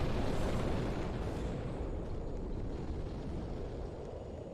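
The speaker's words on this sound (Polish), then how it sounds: "Jeszcze, jeszcze wulkan wybucha!" In the Roblox game Zagrożony Świat, a deep, continuous rumbling roar of an erupting volcano, loud and broad, slowly easing off over several seconds with no voices.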